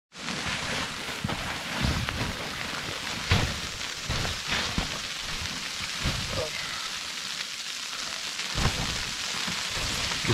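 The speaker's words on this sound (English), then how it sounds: "It's freezing rain, and we're not leaving the tarp." Freezing rain falls steadily onto a tarp at a Canadian winter bushcraft camp, a close continuous patter and hiss with a few louder drops and thumps scattered through it.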